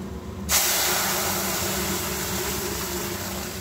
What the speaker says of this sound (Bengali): এরপর সেদ্ধ করে রাখা ডালটা দিয়ে দিলাম